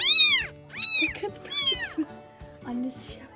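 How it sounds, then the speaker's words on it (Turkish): A small kitten meows repeatedly in high, thin cries, four or five calls close by, with faint background sounds between them. "burada küçücük bir yavru kedi var."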